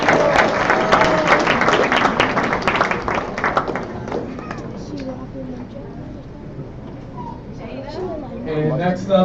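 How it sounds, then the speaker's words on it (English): Crowd applause at a youth tech graduation ceremony, loud at first and fading after a few seconds into scattered claps and voices from the room. "Round of applause, please."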